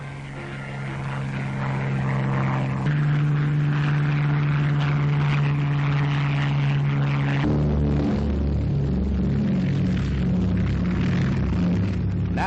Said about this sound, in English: Corsair and Barracuda planes roar into the sky.